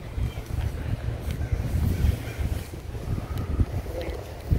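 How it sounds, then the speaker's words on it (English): Strong wind buffets across an open cemetery, a rough, continuous low rumble with gusty swells that sits close and loud against the microphone. "Goes to show you how strong that wind is."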